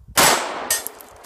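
A gunshot striking a metal target, a sharp ringing clang with a quick decay followed by a fainter second ping, heard at a shooting range without talk.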